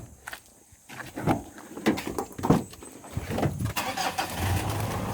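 A car engine starts up amid shuffling, footsteps and door sounds, then settles into a low idle hum toward the end; fairly quiet and close.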